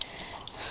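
A dog sniffing up close, a quick run of short breathy sniffs lasting under a second, fairly quiet with no talking.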